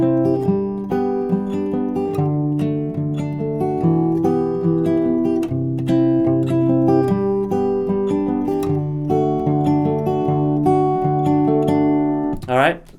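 Acoustic guitar plays the chorus of a song finger-picked, with clear, ringing plucked notes in a steady rhythm for the whole passage, ending in a brief pitch slide.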